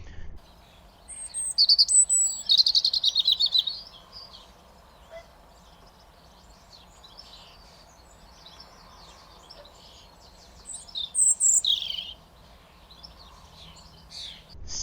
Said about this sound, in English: Robin at the front, a little bit of song.